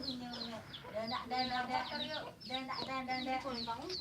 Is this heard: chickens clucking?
yes